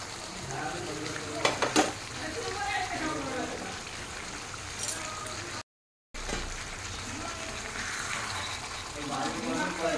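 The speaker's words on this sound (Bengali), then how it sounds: "ভালো করে নেড়ে দিচ্ছি।" A spoon scrapes and turns meat curry with fried potatoes in a pan, making repeated stirring strokes over a continuous low sizzle, fairly close.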